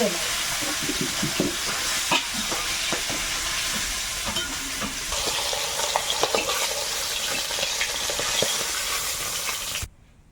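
Fish crackles and sizzles in a hot pan in a Sundarban cooking setting, a loud, continuous frying hiss with scattered pops and stirring clicks that stops abruptly near the end.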